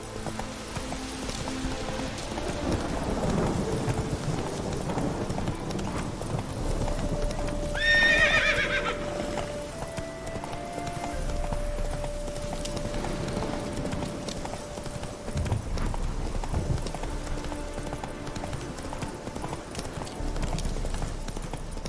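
Roach, the horse in The Witcher 3, gallops with steady clip-clop hoofbeats and lets out a sharp whinny midway, set against game music and ambient noise.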